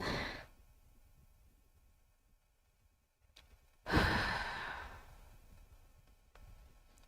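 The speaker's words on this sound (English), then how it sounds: "Let's take a deep centering breath." A long, deep breath taken to center oneself at the close of a guided Akashic records meditation, drawn in and slowly released near the microphone in a quiet room, with a soft exhale trailing off.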